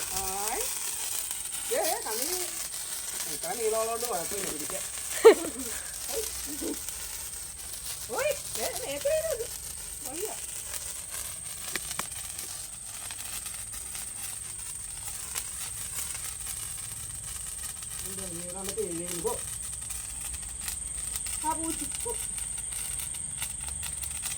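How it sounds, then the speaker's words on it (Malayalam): Sparklers (kambithiri) lit and burning at a child's second birthday celebration, making a faint steady crackling fizz with occasional sharper spits. Voices of family members talk and call out over it throughout. "അക്കുനെ കൊണ്ട് തന്നെ ഫസ്റ്റ് നമ്മൾ കമ്പിത്തിരി കത്തിച്ച് അങ്ങ് ഉഷാറായിക്കുവാണ്"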